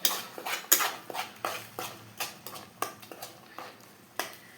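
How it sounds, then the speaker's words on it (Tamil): Chicken being stirred into yogurt in a pan for an oil-free home recipe, heard as about a dozen close, regular scraping strokes of a spoon against metal at an even rhythm, with no voices. "தயிர் ஊற்றி கிளறணும்."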